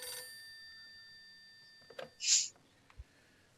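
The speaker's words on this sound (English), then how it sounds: "Chapter 4 with the ringing of a phone." In Phantasmagoria 2, a telephone bell gives one short, bright ring that stands out over a faint, quiet background, with no voices.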